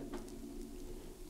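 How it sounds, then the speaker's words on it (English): Doves perched atop a small steeple of an abandoned prison sanatorium give a soft, low cooing, faint and brief against a quiet background. "There's doves right on the top of that little steeple right there."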